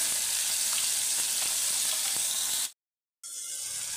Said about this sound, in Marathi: थोडंसं परतवून घ्यायचं आहे तेल सुटेपर्यंत